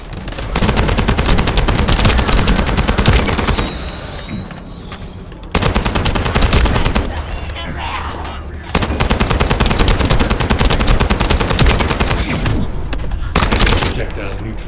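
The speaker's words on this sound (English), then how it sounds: "That stopped the gunfire." Sustained automatic gunfire in The First Descendant, a PC shooter, rattling loudly and nearly continuously, with brief dips in intensity around a couple of pauses before the dense bursts resume.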